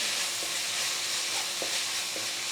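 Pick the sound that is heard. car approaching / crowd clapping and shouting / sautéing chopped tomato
sautéing chopped tomato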